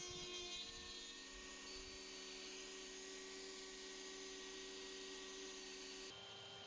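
A Dremel rotary tool fitted with a bit cuts into a handmade pike lure, holding a steady high-pitched whine throughout before the tone drops abruptly near the end.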